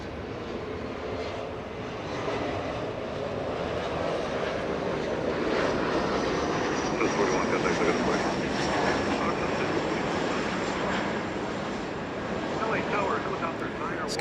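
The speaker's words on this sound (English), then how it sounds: "SkyWest 5379 flying in from Aspen, Colorado. A CRJ 700, lovely CRJ making an arrival" A SkyWest CRJ 700 regional jet arriving at Los Angeles International Airport, its steady engine roar building and holding loud and fairly close throughout, with a voice talking over it.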